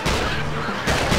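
Dense, loud gunfire roars through a King Kong video game battle, a continuous burst with a second surge near the end, with no voices over it.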